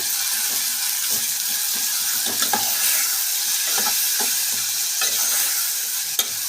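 Chopped tomatoes with coarse salt and turmeric being stirred in a hot pan. Repeated scraping strokes sound over a soft, constant sizzle, close and without speech.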